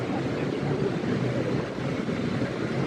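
An artificial waterfall splashes inside the Siam Paragon shopping mall with a steady, dense rush of falling water that stays even and close throughout.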